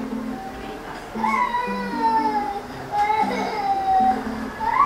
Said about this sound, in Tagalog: ang ingay nung sa labas natin may umiyak na baby girl